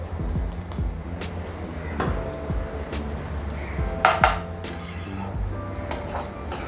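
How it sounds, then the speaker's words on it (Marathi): Spices, roasted grated dry coconut and onion are sautéed in hot tempering oil for a black-eyed pea and potato curry, with a low sizzle and intermittent clinks and scrapes of a utensil against the pan. "आता हे सगळे मसाले हे खोबरं कांदा हे छान असं परतून परतून आपण घेणार आहोत छान फ्राय करून घेणार आहोत"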